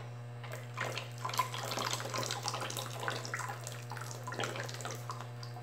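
A small amount of water runs from a tap into a container for mixing liquid laundry detergent, a steady close splashing stream lasting several seconds over a constant low electrical hum, with no voices.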